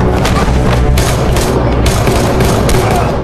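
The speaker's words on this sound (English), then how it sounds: "an explosion ripped through the building, but Junkyouong had already moved." An explosion ripping through a building, a loud, continuous roar of blasts, thuds and rattling debris that fills the whole stretch, with a few sharp bursts on top.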